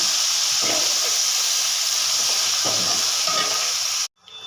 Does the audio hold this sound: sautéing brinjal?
yes